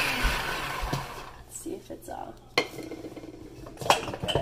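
Spices ground fine in a small electric grinder for a Mediterranean rice bowl, a whirring grind up front followed by clattering, tapping and scraping sounds of handling the grinder and dishes nearby.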